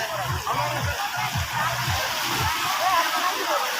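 River water splashes and sloshes steadily as people bathe in the shallow stream, a continuous close wash of water with voices talking underneath.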